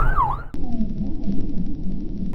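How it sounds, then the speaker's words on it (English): A siren from a passing ambulance rises and falls over steady road and vehicle noise, beginning with a loud sweeping wail that fades into a fainter tone beneath the rumble, on a cold winter road in Idaho. "Here comes an ambulance."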